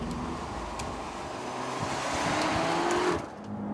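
A Hyundai i30 N hot hatch on a test track revs hard up through its range, the engine note building in a loud, close roar before easing off near the end.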